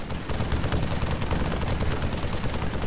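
Rapid gunfire in the video game Arma 3, a dense continuous rattle of shots at moderate level running through the whole clip without talk.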